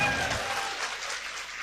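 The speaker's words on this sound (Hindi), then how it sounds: "ताली बजाओ" Crowd applause at a Chhattisgarhi stand-up comedy show: dense, continuous clapping that starts strong and eases slightly over less than two seconds, with no voices over it.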